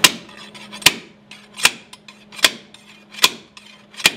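Sharp metallic strikes repeat at a steady pace, about one every 0.8 seconds, with a low hum between blows. A slide hammer banging, close and loud.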